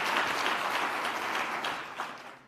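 Applause from a room of mayors at a conference meeting: steady clapping from many hands that gradually fades out over a couple of seconds.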